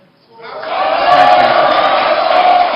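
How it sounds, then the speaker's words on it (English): Audience at a 2020 Edo state government debate jeering and clapping: a crowd roar swells quickly from near silence and holds loud and sustained, with voices blending together. "audience members, please, could you stop jeering or clapping?"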